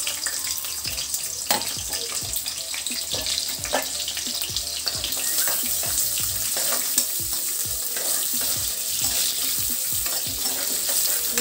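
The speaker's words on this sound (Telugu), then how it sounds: "కట్ చేసి పెట్టుకున్న ఉల్లిపాయ ముక్కలు వేస్తున్నానండి" Chopped onions sizzling in hot oil in a pan for a broad bean masala curry, a loud continuous close fry with scraping stirs throughout and no talk.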